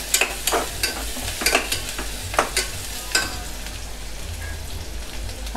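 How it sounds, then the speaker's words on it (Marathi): Ginger-garlic paste being sautéed with onions in a pan for dal khichdi: a soft continuous sizzle broken by repeated scraping stirs of a spatula, close and moderately loud. "आता आपण जी आलं लसूणची पेस्ट केली ती याच्यामध्ये टाकून देऊया कांद्याबरोबर आणि ती पण छान परतून घेऊया"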